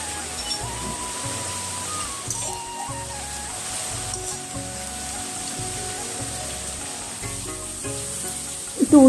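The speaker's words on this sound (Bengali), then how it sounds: "তেলটা গরম হয়ে গেছে, আমি আলুটা ছেড়ে দেবো।" Potato slices crackle and sizzle as they deep-fry in hot oil, a steady close bubbling hiss over soft kitchen noise.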